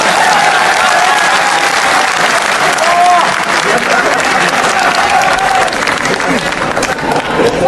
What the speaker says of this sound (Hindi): अब इस पे तो कम से कम ठोको ताली।